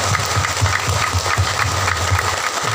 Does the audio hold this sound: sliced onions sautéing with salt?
no